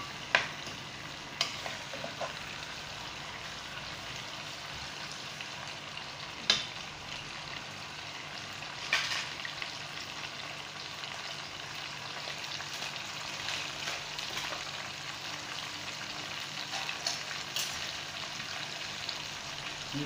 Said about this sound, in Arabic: نقليها هكا في الزيت والملح والفلفل كحل